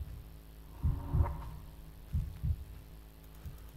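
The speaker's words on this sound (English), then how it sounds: "Why is it like the heart beating?" Heartbeat in a scary video game, with low thumping lub-dub pairs recurring at a slow, steady pace over a quiet, dim ambient hum.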